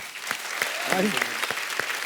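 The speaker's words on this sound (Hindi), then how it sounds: "जोरदार तालियां प्रियांशु जी के लिए।" Applause from a comedy show studio audience, fairly soft and dense with a few sharper individual claps standing out, and a brief voice rising in the middle.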